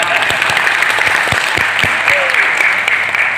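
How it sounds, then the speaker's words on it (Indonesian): An audience applauds at an Indonesian religious gathering on preacher certification, a dense, steady clatter of many hands close by, with sharper individual claps standing out throughout. "Jangan ragu-ragu kalau tepuk tangan."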